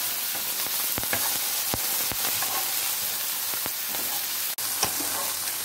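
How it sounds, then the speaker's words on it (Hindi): Okra fries in hot oil for bhindi sabji with a steady, dense sizzle, broken by scattered sharp pops and crackles throughout. No one talks. "भिंडी फ्राई करा पहले"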